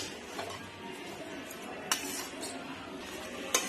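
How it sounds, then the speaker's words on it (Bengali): Dry mango pickle with spices stirred in a pan, quiet scraping and a couple of sharp metallic clinks of a spoon against the pan over a low hiss. "এইভাবে নেড়ে ছেড়ে নিলেই ভালো করে মশলাগুলোর সাথে আমগুলো যাতে মিশে যায় ততক্ষণ অবধি এটা নাড়তে হবে"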